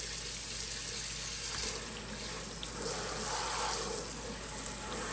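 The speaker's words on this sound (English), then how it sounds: "I'm just going to make sure we rinse that side of the sink really good." Water runs steadily from a tap to rinse out a kitchen sink, a continuous hissing splash at close range with no speech.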